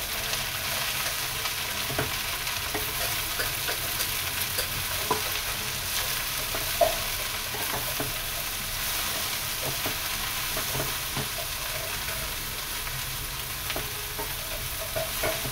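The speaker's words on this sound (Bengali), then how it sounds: "একটু নেড়ে নিয়ে কমিয়ে দিতে হবে" Leafy greens fry in a pan on a gas stove, a steady loud sizzle broken by repeated scraping and stirring strokes throughout, with no voices.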